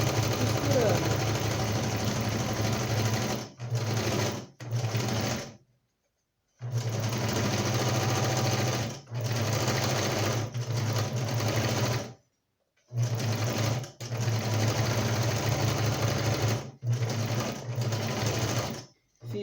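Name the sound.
sewing machine stitching a cushion cover seam with backstitch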